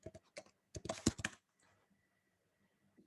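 Keystrokes on a computer keyboard while writing text in Microsoft Word, a quick burst of close clicking taps in the first second and a half, then near silence.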